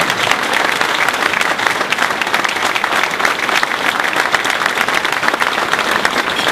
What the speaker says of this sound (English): Give them a round of applause for what they're doing.